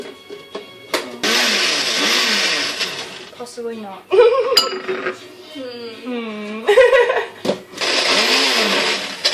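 A blender roars in loud bursts that start and stop while making raw cacao truffles, with a person talking briefly between the runs.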